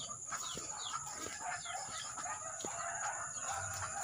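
A handful of free-roaming backyard chickens cluck and call, with short repeated clucks and rising squawks over a steady hum, moderately close and without talk.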